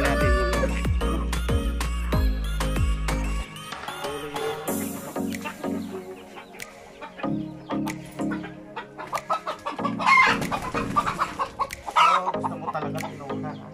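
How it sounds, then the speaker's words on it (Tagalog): Chickens cluck and chatter around a rural yard, with repeated short clucks and squawks at varying distances, a steady low drone underneath at first, then looser scattered calls. "may mga manok din dito"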